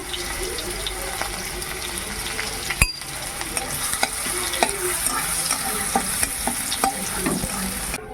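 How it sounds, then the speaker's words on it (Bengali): Garlic and dried chillies fry in oil, sizzling and crackling steadily in a pan, with occasional sharp pops and a clack of stirring, no voices. "রসুনটা ভাজা ভাজা হয়ে এসেছে"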